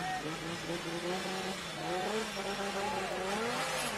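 Toyota JZ-engined drift cars at the Drift Kings Asia Cup scream under hard acceleration, a loud sustained engine wail with rising pitch sweeps, as a commentator talks over it.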